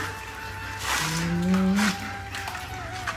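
A cow gives one long, loud, low moo close by, set against light rain and a faint background hum.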